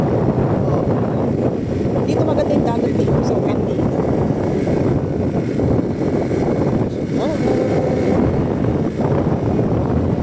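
Strong sea wind buffets the microphone in a continuous loud roar along the shore at Ternate, Cavite, while someone talks over it throughout.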